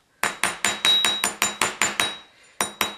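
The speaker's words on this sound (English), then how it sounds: "I'm going to straighten everything out with my rawhide hammer." A rawhide hammer strikes wire on a hard surface to straighten it, about a dozen sharp, close, ringing taps in a quick steady rhythm, with a short pause before the last few blows.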